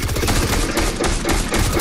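Rapid automatic gunfire in a Fortnite match, a dense, loud stream of close shots rattling without pause for nearly two seconds.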